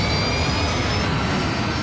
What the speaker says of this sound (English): The crew brings up power to the engines on the wings.